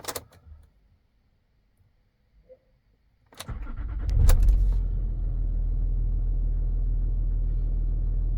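A Land Rover Discovery 3 (LR3) engine cranks and catches after a few faint clicks, then settles into a steady, loud idle rumble close to the microphone, with no talking over it.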